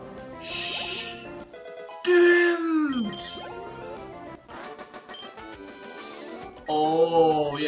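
A synthesized Pokémon cry from Pokémon Topaz, a warbling electronic call with sliding pitch, sounds in short bursts with brief pauses between.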